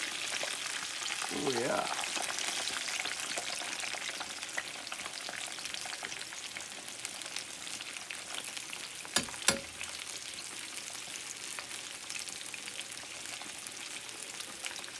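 Chicken breast pieces, cut thin and coated for no-carb frying, sizzle steadily in hot oil with a dense crackling hiss, a brief scraping stir early on and a couple of sharp knocks later; one short spoken remark.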